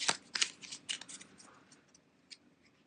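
A deck of playing cards is shuffled on a tabletop during a board game session, with a few crisp riffling bursts followed by fainter flicks and taps, close and quiet with no talk.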